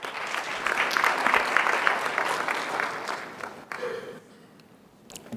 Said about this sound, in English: let's give her a round of applause, shall we?